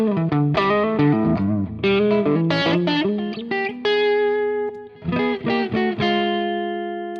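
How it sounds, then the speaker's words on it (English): Electric guitar played through a Compulsion distortion drive pedal into a clean amp on a Fractal preset, with loud, sustained distorted chords and single-note phrases with slight chorus and reverb, and no talk. "with the drive you can Compulsion distortion is perfect, combined with a clean amp"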